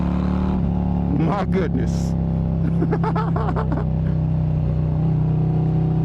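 A Harley-Davidson Street Glide ST performance bagger rumbles loud and close with a steady deep V-twin drone and rising revs, while a man exclaims over the top of it.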